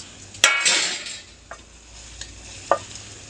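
Boiled peanuts dropped into a drumstick curry cooking in a pan: a thud and a brief rush, then a few sharp spoon scrapes against the pan at close range. No voices.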